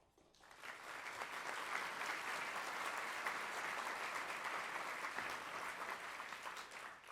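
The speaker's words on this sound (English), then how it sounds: "Not used to all this applause, but it certainly is fun." Guests at an annual tribute dinner applaud, clapping swelling in after a quiet start and holding steady as a full room of hands, with no voices over it.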